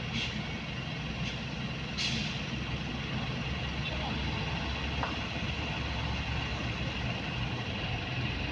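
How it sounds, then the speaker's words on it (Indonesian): A loaded dump truck struggles up a steep hill, its engine droning in a low, continuous rumble, with a couple of sharp hissing bursts near the start, while people talk over the scene. "Yang di sini ada lagi nih ya, gagal menanjak dump truk."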